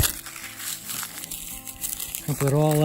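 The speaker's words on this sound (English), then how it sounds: "You just take this and make sure it's plenty dry, crumple it all up" Dry tinder being crumpled by hand to start a campfire on a trail, with a crinkling rustle under a man's speech for a few seconds before talking takes over.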